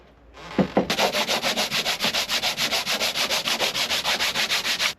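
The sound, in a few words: sanding a wood piece with sandpaper by hand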